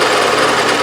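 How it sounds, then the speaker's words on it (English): Bridgeport milling machine cutting steel, a steady loud broadband grinding whir from the cutter with no pauses, brief and without speech. "cutting steel, not aluminum"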